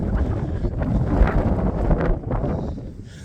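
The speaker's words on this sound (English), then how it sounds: "You're right in the wind there." Strong wind rushes across an exposed hillside in the Shropshire Hills, a loud continuous roar buffeting the microphone at close range.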